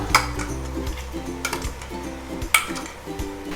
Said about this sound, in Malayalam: ഇനി ഈ പേസ്റ്റും കൂടെ ചേർത്ത് നന്നായിട്ടൊന്ന് വഴറ്റിയെടുക്കാം.